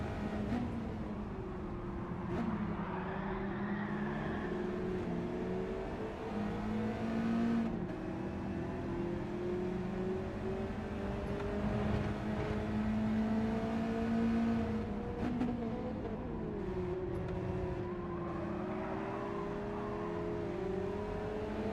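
Mazda Cup race cars in a racing video game hold a steady engine drone, with pitch rising and falling through gear changes and passing cars, and no talk over it.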